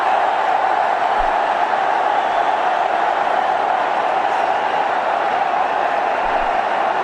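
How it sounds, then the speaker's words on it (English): A cricket stadium crowd at a 2014 India versus Sri Lanka match roars in a steady, loud, unbroken wash of cheering that holds throughout. "The crowd is really enjoying."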